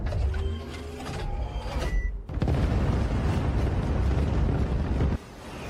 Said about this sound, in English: Close-in defense cannons. Fire at full capacity.